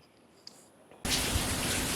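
Steady rain hiss starts abruptly partway through, a dense, even wash of falling rain after a quieter opening with a faint click.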